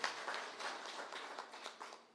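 An audience at a Kakamega County public forum claps for the president, a steady patter of applause from a modest crowd, moderately loud and continuous.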